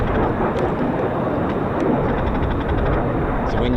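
A flight of two USAF F-15 or F-35 fighter jets passing over RAF Lakenheath, a loud, continuous broadband engine roar that holds steady throughout without fading.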